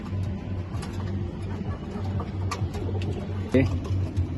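Homing pigeons in a pigeon loft, soft low cooing repeated in the background under someone talking throughout.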